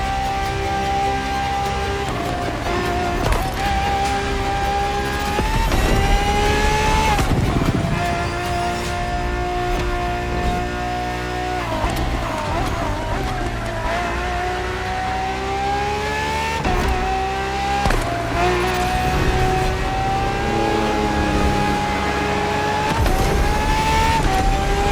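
A Ferrari FXXK racetrack supercar in The Crew Motorfest revs hard and steadily, its loud engine note climbing and dropping through repeated gear changes and throttle swells, alone without talk.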